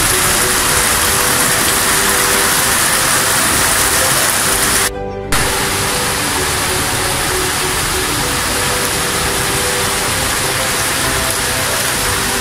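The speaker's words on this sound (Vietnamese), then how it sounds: "Đường cống đang làm mưa thế này coi như là hết chảy luôn, ngập luôn." Heavy rain pours down on a flooding street in Phan Thiet, a dense, loud, unbroken roar of falling water that cuts out briefly about midway before resuming just as strong.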